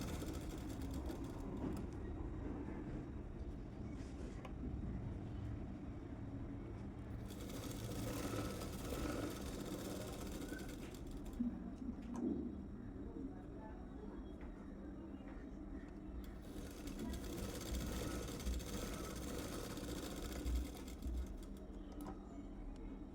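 A sewing machine stitching a blouse runs in long, steady mechanical bursts of rapid whirring and clatter, stopping and restarting between runs, with quiet gaps in between.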